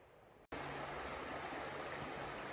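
A creek on the Sespe River trail flows steadily in a close, loud and unbroken rush of water after a brief silent gap at the start, with no talking.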